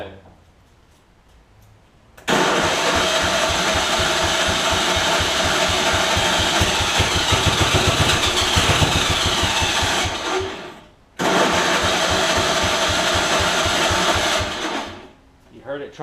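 Cranking of a John Deere AMT600 Gator utility vehicle's engine: a steady, loud mechanical churn that runs for about eight seconds, pauses briefly, then cranks again for a few more seconds before cutting off, with no voices.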